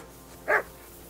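A dog gives a single short bark, close and fairly loud, against a quiet background.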